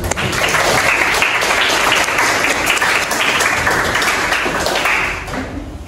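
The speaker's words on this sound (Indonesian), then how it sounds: "Sekali lagi beri tepuk tangan kepada kelompok" A classroom gives group 2 a round of applause: dense, lively clapping from many hands that carries on steadily for several seconds and then starts to fade.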